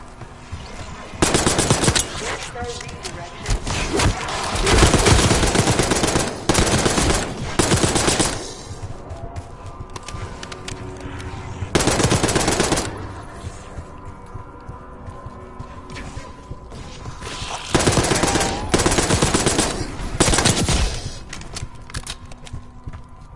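Bursts of automatic gunfire in a Call of Duty Black Ops 6 campaign level rattle up from lower floors of a building, several loud rapid volleys separated by quieter stretches.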